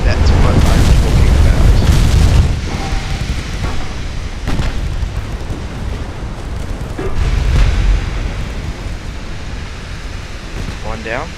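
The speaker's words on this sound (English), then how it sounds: "Flash fire on the destroyer" A destroyer blows up from a flash fire in a naval battle game, a heavy booming blast with rumbling low end swelling in loud bursts, followed by a second surge of explosive rumble as a voice talks over it.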